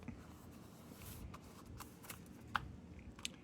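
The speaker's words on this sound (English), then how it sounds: "I'm using this foil so because I can mold it." Aluminium foil is crinkled and molded by hand while restoring a RAYO No.100 lantern. The soft, close rustling and crackling continues throughout, with a few sharper crinkles, and no one speaks.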